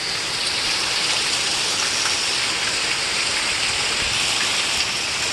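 Steady rain falling outdoors on potted orchids, a dense even hiss of drops with no breaks, close and fairly loud, with no voices.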